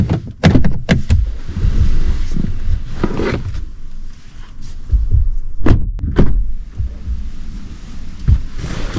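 Getting into the front seat of a Volkswagen ID.5 GTX electric SUV: a car door opens and thuds shut, with seat rustling and several short knocks and bumps close to the microphone.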